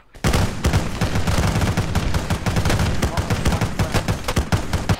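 Loud, sustained automatic gunfire from the video game ArmA 3 rattles in dense, rapid bursts that never let up, with the reports overlapping into a continuous barrage.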